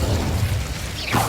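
Fire spell cast in Hogwarts Legacy, a single whooshing burst rising out of steady low game rumble near the end, fairly loud and close.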